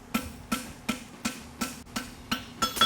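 Eight sharp hammer blows strike a blacksmith's wedge at the forge while a toe grabber is being shaped, evenly spaced and close, each with a short ringing decay.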